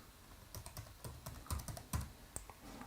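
Keys clatter on a computer keyboard as a Wi-Fi network name and password are typed in: irregular bursts of close, crisp clicks, with no voices.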